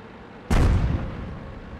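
A tank cannon fires in a video game, one sudden loud blast with a heavy low boom that rolls off into a long rumbling decay, close and alone.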